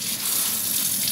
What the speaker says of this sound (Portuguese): eu vou dar uma passada de água também aqui